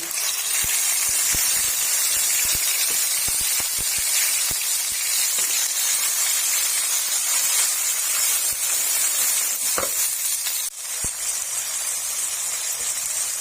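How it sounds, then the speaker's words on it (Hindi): Ginger paste hits hot desi ghee in a wok and sets off a loud, steady hissing sizzle that runs without a break, with a few faint knocks of utensils underneath. "अब घी गरम हो गया, अब पेस्ट ऐड कर देंगे ऐसे"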